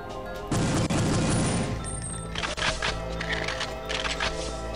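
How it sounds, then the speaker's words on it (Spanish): Gunfire from soldiers in Perfect Dark, Area 51 Infiltration level: a loud burst of rapid shots for about two seconds, then scattered cracks and booms at a lower level. "Y yo sencillamente voy a acribillarlos a tiros"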